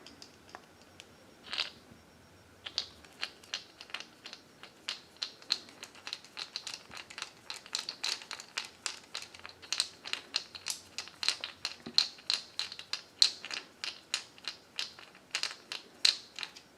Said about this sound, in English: You can do that by unscrewing this little screw right here.